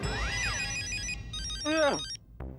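A phone ringtone plays a bright, warbling electronic melody in short repeating phrases, loud and close, with no talking.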